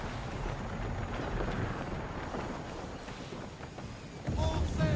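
A sailing ship runs at full sail in Assassin's Creed 3, a steady rush of wind and water washing past the hull with a louder surge near the end.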